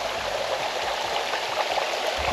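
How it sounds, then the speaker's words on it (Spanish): A small waterfall on a forested trail toward Choquequirao, Peru, gives off a steady rushing, splashing roar. It is close and fills the scene with no speech. "Encontramos una pequeña cascada."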